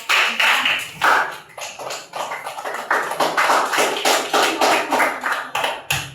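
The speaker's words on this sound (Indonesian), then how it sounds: "Mari kita tepuk tangan buat kelompok 4." Schoolchildren in a classroom clap for a presenting group after a photosynthesis question session, a loud, close burst of quick, roughly rhythmic clapping that carries on for several seconds.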